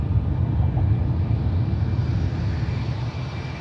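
A JetBlue Airbus A321 jet takes off from runway 1 right at San Francisco International Airport, a steady, broad engine roar heavy in the low end that holds loud and even throughout, with no talk.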